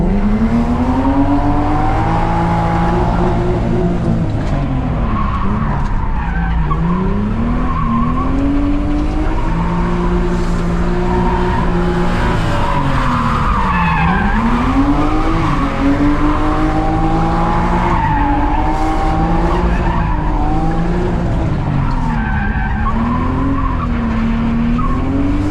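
A BMW E36 328is coupe drift car skids continuously, tires squealing loudly over a rising and falling engine note through repeated sweeping slides.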